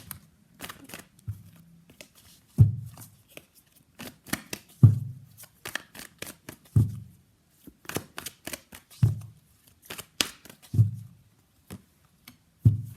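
Tarot cards are shuffled and handled with repeated soft riffles, flicks and taps in an irregular rhythm, close and fairly quiet with no voice.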